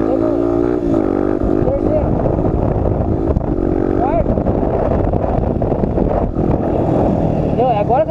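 A Lander 250 motorcycle engine shifting gears while heading downhill, revving loudly and steadily with pitch sweeps rising and falling as gears change, close up with wind buffeting throughout.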